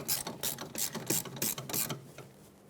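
A ratchet tightens the brake line bolt on a 2006-2011 Honda Civic, giving close, rapid bursts of clicking in about six quick strokes, then stopping, with no talk.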